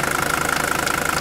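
An old high-mileage diesel engine idles cold with a steady, rapid knocking clatter, close and moderately loud over about a second, no voices.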